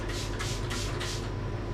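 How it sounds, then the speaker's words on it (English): Sterilising spray misted onto the lid of a mango beer brewing vessel, four short, close hissing bursts in quick succession over a steady low background hum. "Give it a spray first of all"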